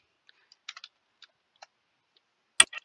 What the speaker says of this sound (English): This is my typing tool. And type something on here.